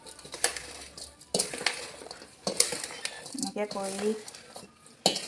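Pickle ingredients being mixed in a bowl for Assamese mixed pickle (achar), with bursts of clinking and scraping of a utensil against the bowl alongside a person talking.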